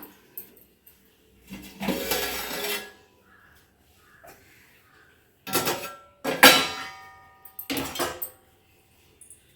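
Prawn biryani made with seeraga samba rice being stirred in a pot after opening, several bursts of scraping and clattering utensil against metal, separated by quiet pauses.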